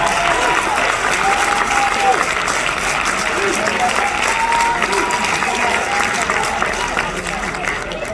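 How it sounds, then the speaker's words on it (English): A large crowd at a Crowne Plaza gathering applauds in a continuous, even roar of clapping that stays loud throughout, with faint voices blended underneath. "Give that a round of applause."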